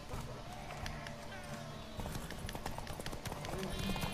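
Horse galloping in the video game The Witcher 3: Wild Hunt, a quick run of hoof clip-clops under game ambience and other sounds, moderately loud and continuous.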